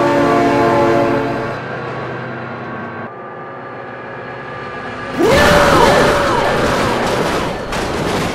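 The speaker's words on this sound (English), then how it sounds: "Oh my God, train." A train rumbles past in the BeamNG driving game, its horn blaring long and loud before a sudden burst of crashing, clattering noise.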